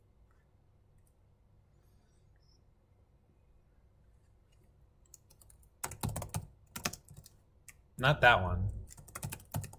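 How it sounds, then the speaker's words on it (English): Computer keyboard typing during an online card game, quick bursts of clicking keys close to the microphone, with someone speaking briefly as the typing picks up. "I'm typing it in."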